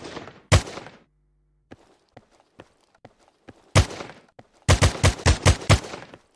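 Gunfire in the Command Strike FPS video game, with a single loud shot, then scattered faint clicks, then rapid bursts of shots close by.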